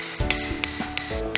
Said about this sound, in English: it's all detailed with a scotch chisel and hammer, just like this